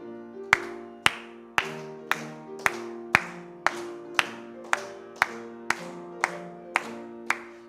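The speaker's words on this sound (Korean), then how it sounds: "496장 우리 박수 올리면서 찬송 드리겠습니다." Congregation at a Korean Methodist Wednesday service clapping in steady unison with a hymn, sharp rhythmic claps about every half second over sustained organ or piano chords and singing.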